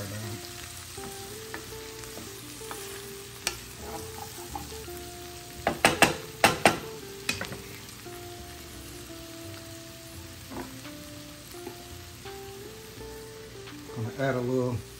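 Venison sausage breakfast hash frying in a pan gives a constant soft sizzle and crackle, with a cluster of sharp utensil clatters and scrapes midway and again at the end, under occasional talk.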